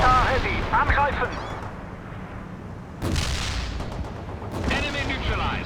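A mortar barrage fires in World in Conflict during a Soviet assault, with several heavy booming blasts and rumbling rolls. Brief unit voice lines sound between the explosions.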